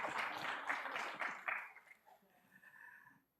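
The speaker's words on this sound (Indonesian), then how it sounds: "Ya, tepuk tangan yang keras saudara ya." Church congregation clapping in a quick burst of applause that fades out within a couple of seconds, fairly faint and roomy, with a voice speaking near the end.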